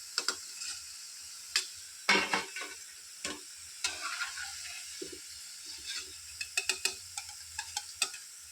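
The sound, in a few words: rodga dough rounds frying in oil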